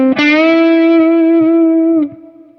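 A PRS SE Paul's electric guitar on its neck pickup rings out a single sustained, smooth note with a bright attack that holds steadily for about two seconds before cutting off, loud and close, with no talk.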